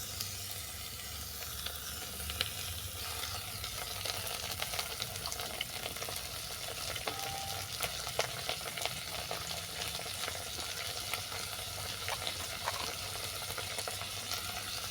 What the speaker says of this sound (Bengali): পেঁয়াজটা হালকা ভেজে নেওয়ার পর এর সঙ্গে তুলে দিচ্ছি চিংড়ি মাছ